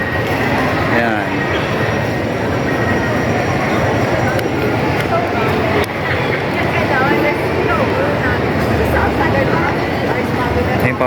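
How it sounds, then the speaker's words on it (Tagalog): A train rumbles past near the Mall of Asia at night in a steady, loud roar that fills the whole stretch, with a crowd's chatter mixed in. "Ayun pa, may tren, no?"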